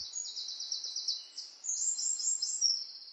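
Birds chirping in a soundscape recording, a continuous stream of high, rapid tweets fairly faint over a quiet background with no voices.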